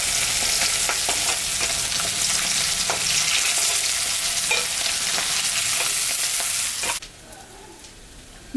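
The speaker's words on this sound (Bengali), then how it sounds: "মাছটা ভাজা হয়ে গেছে, আমি এখন তুলে নেব।" Pangasius fish frying in hot oil, a loud, dense, continuous sizzle with occasional crackles and stirring scrapes, which drops sharply to a much quieter hiss near the end.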